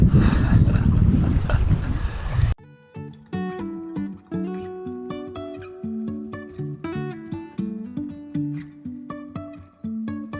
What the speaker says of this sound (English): Oh yeah, the winds are coming.